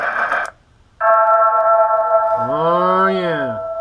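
A custom lightsaber with a built-in MP3 player plays the opening of a song, sustained tones that end in bending, sliding notes, after a short burst of something brief and a pause.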